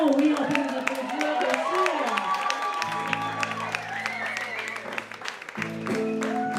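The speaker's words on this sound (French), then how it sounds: "Oui, on peut les applaudir" Applause breaks out for a newly named first team at a community event, moderate clapping that runs steadily beneath a voice and other tonal sounds.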